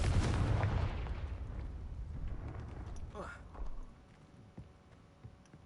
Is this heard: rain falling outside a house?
no